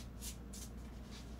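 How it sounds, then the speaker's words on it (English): Tarot cards shuffled by hand, three soft riffling bursts in quick succession, close and quiet, with no talk over them. "shuffle ko lang po yung cards."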